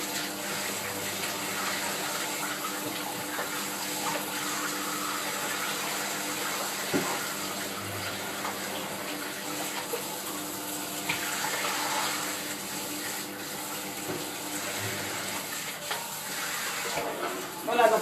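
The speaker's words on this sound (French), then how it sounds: "Pendant que ça mélange, je vais laver mon flexipan plat." Tap water runs steadily into a sink while a flat Flexipan silicone mould is washed by hand, a continuous close splashing hiss with faint clatter and a mixer humming underneath.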